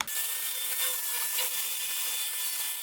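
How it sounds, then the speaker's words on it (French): Flap disc grinding steel body panels during bodywork repair on a Renault R2087 4x4, a continuous abrasive whine with a steady high hiss held at a constant level for the whole stretch, close up and with no talking. "Maintenant, un petit coup de disque à lamelle."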